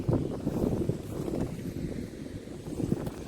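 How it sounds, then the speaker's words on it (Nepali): Wind blows outdoors in a city, buffeting the microphone in low, uneven gusts that rise and fall across the few seconds, fairly close and rough, with no talking. "हावा मजाको चल्छ हौ।"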